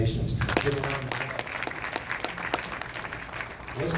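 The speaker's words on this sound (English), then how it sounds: "Give a round of applause." Applause from an audience at a public relations event, a dense, steady wash of clapping running throughout with some speech mixed in.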